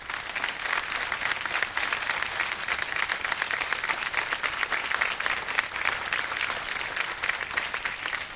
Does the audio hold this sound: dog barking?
no